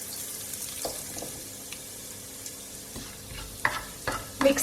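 Whole cloves, cumin seeds and asafoetida frying in a pan for mutton rogan josh, a soft steady sizzle with occasional scraping stirs and small clinks growing louder toward the end.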